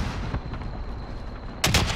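A single loud, sharp sniper rifle gunshot cracks near the end in Call of Duty Warzone, following a brief stretch of low rumbling game ambience.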